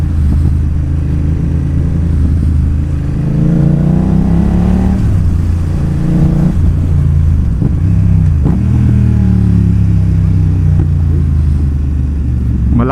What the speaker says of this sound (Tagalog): Malakas yung engine brake ah.